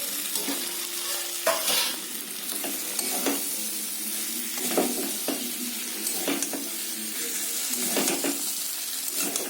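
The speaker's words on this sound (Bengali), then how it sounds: "আলু আর ফুলকপিটা ঢেলে দেবো, ঢেলে আর একটু কষিয়ে নেবো।" Potato and cauliflower pieces frying in a cumin, ginger and tomato spice paste with oil, a steady sizzle running throughout with repeated scraping stir strokes, close and fairly loud, no voices.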